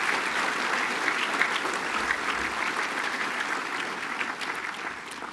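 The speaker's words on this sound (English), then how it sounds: "probably deserves another round of applause" A large school assembly applauds the college captain at an orientation morning: steady, dense clapping from a big crowd, sustained for several seconds and easing slightly toward the end.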